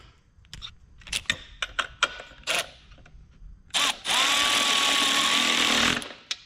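A ratchet tightens the engine mount bolts on a long-travel third-generation Toyota 4Runner during a 3.4L 5VZ-FE engine swap, giving a few short clicking bursts and clanks, then a steady close whir for about two seconds.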